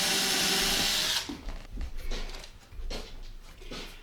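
A power drill drives a screw into a wooden desk, first a loud steady whir for about a second, then quieter intermittent bursts of the motor with knocks and handling noise.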